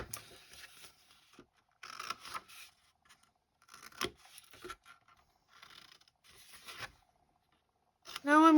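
Small triangles cut from scored paper with scissors make short bursts of crisp snipping and rustling, separated by pauses, and end in a brief high squeak.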